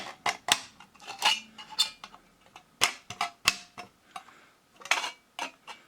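Sharp metallic snips and clicks in an irregular rhythm, close and fairly loud, as ordinary scissors cut a circular hole through a thin tuna can, with brief pauses between cuts.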